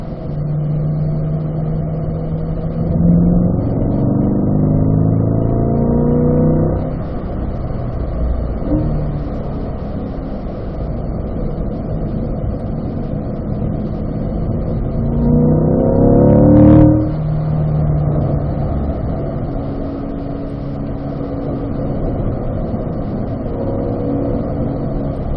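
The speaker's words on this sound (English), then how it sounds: "Then you're up to fifth gear down this straightaway, and you're firm on the brakes initially." A race car pulls hard down a track straightaway in fifth gear during a lead-follow lapping session. The engine drones steadily, rising in pitch in two strong pulls, with a sharp shift or lift near the end of the second pull. No one speaks.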